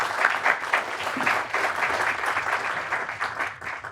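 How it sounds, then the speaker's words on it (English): An audience at a conference panel in Boulder, Colorado claps steadily for about four seconds, a dense even patter of many hands that fades slightly at the end. "you deserve applause"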